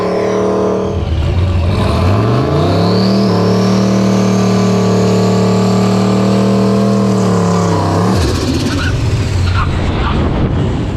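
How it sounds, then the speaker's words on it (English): Tesla Plaid and a turbocharged Foxbody drag race down a quarter-mile strip: a loud, steady engine roar with a rising whine builds and holds for several seconds, then drops away, with no voices over it. "Got Andrew with the Tesla Plaid channel in that lane. Got a Turbo Foxbody in the right lane."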